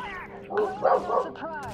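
A pet dog in the room gives several short yips and whimpering barks, fairly close, rising to a louder cluster in the middle, with game sounds faintly behind.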